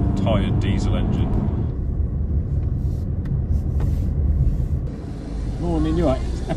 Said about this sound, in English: tired diesel engine.